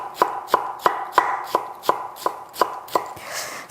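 A knife cuts cucumber into thin julienne strips on a board for a cold cucumber soup in a Korean temple kitchen, giving nine close, crisp chops in a steady, even rhythm.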